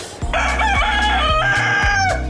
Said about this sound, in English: Oh, roosters. Nice cages.